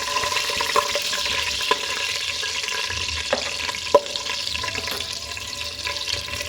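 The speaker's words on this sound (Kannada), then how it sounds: "ಹಸಿರು ಮೆಣಸಿನ್ಕಾಯಿ ಇದ್ದೀನಿ ಮೂರು ಕೂಡ ನೀಟಾಗೆ ಎಣ್ಣೆ ಒಳಗಡೆ ಫ್ರೈ ಆಗಬೇಕು" Green chillies fry in hot oil for a restaurant-style chicken dum biryani, giving a steady close crackling sizzle with a few sharp pops and spatters throughout.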